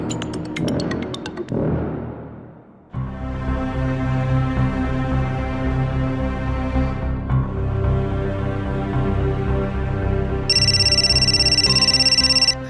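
A mobile phone ring sounds in a room, a steady, fairly loud tonal ringtone pattern lasting several seconds after a brief bit of background voice, with a brighter repeating ring near the end.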